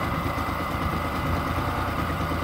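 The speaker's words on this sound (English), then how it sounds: "Now it is warmed up, so. Starts back up on idle." A carbureted four-stroke boat engine, already warmed up, idles steadily with an even low chugging rumble, close and continuous, with no voices.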